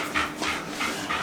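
A dog tugs on a toy during a game of tug of war, heard as rhythmic breathy panting and huffing bursts up close, without speech.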